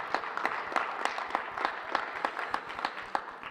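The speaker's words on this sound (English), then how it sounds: "I want to make sure that you all give yourselves a round of applause" A school board honors and recognitions ceremony at a high school, with the audience clapping. The claps are steady and fairly faint, with distinct individual hand claps in a continuous patter that lasts throughout. No one talks over it.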